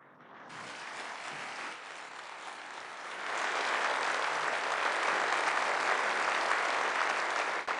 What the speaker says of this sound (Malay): saya mohon tepukan gemuruh untuk Presiden Ukraine, Volodymyr Zelensky